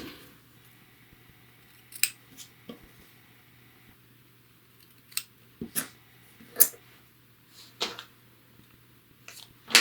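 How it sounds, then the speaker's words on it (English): Scissors snip through fabric seam allowance in a series of sharp, quick cuts spaced irregularly over a quiet background, close and fairly soft, with no talking. "I've got a couple of extra seam allowance bits hanging out, so I'm just going to trim those really quickly"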